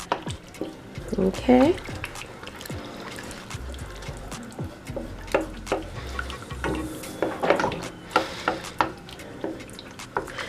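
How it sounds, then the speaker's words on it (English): A spoon stirs shrimp pasta sauce, seasoned with salt and thickening to a cheesy consistency, in a pot with repeated wet scraping and gentle sloshing. A voice speaks briefly over the stirring. "we're going to stir this until the sauce is thickened and cheesy"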